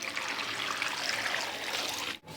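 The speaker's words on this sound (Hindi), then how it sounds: "इसे पानी से धो के और इसे साफ़ कर लेते हैं" Running water splashes steadily over kewachh vegetable as it is washed, a close, continuous trickling rush that cuts off abruptly near the end.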